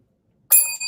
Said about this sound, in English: That's a double bell.